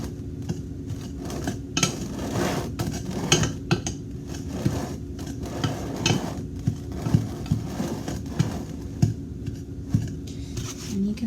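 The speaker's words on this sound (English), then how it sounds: "You actually have to do this to get the butter and the dry ingredients mixed together." Butter being rubbed into flour by hand for Welsh cakes, giving a steady close run of soft rustling, scraping and light knocking against a bowl, with small clinks throughout.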